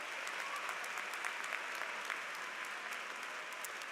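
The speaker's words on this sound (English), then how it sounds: "Would you give them a round of applause" Audience applause at a university undergraduate commencement ceremony for a choir on the risers, a steady, even wash of many hands clapping heard from a distance, fairly faint and unbroken throughout.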